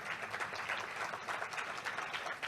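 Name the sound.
audience applause at ceremony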